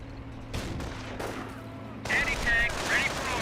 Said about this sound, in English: peppered a little bit by the MG42